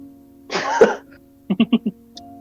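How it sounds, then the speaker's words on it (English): One rough, close throat clearing, followed by a quick series of four short, soft vocal hums or grunts. "you hear me clear my throat"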